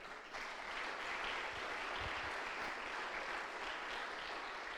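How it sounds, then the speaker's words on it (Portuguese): A church congregation applauding during a sermon, a dense, steady wash of clapping from many hands, heard at a distance and fairly soft, continuing evenly throughout. "As palmas para Ele."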